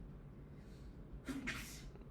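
A single sneeze bursts out in a lecture hall during a chemistry class, a short sharp double-pushed breath that stands out clearly against the low murmur of the room.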